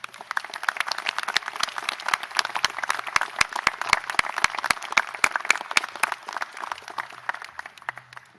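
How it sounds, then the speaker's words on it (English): Graduation ceremony crowd in Hobart clapping for their supporters, sharp rhythmic claps standing out from a steady applause bed, continuing evenly before easing slightly at the end. "express your gratitude to those who have supported you with a round of applause"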